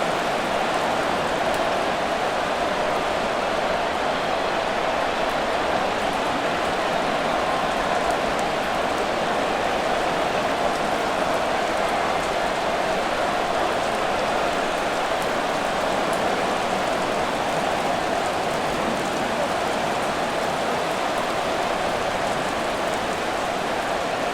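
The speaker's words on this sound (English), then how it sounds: "The rain set to continue as we are underway in the second half." Steady rain falling during a Madden NFL 24 football match between the Kansas City Chiefs and Tampa Bay Buccaneers, an even, continuous hiss of dense drops on a surface that holds at one level throughout with no voices.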